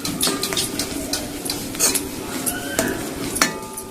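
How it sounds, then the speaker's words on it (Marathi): A utensil stirs turmeric into fried chili paste in a pan for aloo paratha filling, making repeated close scraping clinks against the metal over a soft sizzle, with no one speaking. "हळद सुद्धा छानपैकी हलवून घेते"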